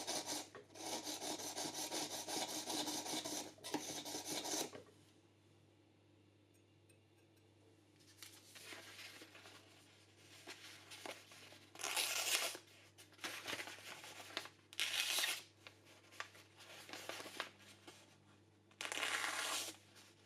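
A kitchen knife is being sharpened to form its cutting edge, with bursts of dry rasping strokes separated by quiet gaps, close and fairly faint.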